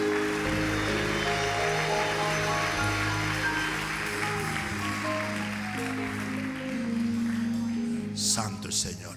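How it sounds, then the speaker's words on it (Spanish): A church congregation breaks into strong, sustained applause for Jesus, a dense wash of clapping that fills the room over soft sustained music before tapering off near the end. "Dale un aplauso fuerte a Jesús."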